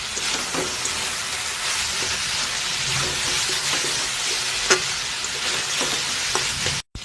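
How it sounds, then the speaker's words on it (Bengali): Bitter gourd, potato and green chili frying in ghee with onion, a steady close sizzle and crackle with occasional stirring clatters of a spoon against the pan throughout, no voices. "ঘি করলা আলু সব কিছু ভেজে নিচ্ছি"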